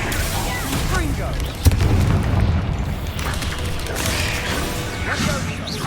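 The Confringo fire spell bursts in Hogwarts Legacy as a single booming blast early on, followed by crashing impacts and whooshing combat effects over a continuous game soundscape.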